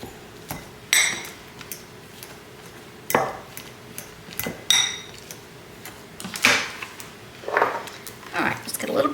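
Microwaved home-canned russet potatoes being mashed in a bowl, giving soft squishy scrapes and clinks of utensil against dish in irregular bursts, close up, with brief talk between strokes.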